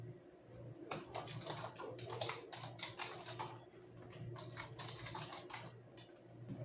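Fingers type on a computer keyboard during a functional-testing lesson, producing a continuous run of soft, close key clicks at an irregular pace, quiet and without talk.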